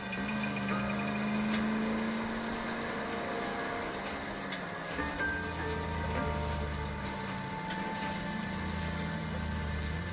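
Steady rain patters across the whole stretch in the video game L.A. Noire, with a low engine rumble underneath and no talking.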